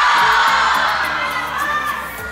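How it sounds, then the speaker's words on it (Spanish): Audience at a live stage show, applause and cheering with whoops and shouts, a loud dense crowd roar holding steady throughout. "den un fortísimo aplauso por haber sido un público espectacular"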